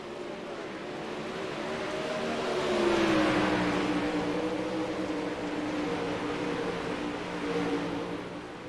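360 sprint cars racing on a dirt track at USA Speedway, engines roaring from a distance with a rising and falling drone as cars pass, steady and moderately loud throughout, no voices.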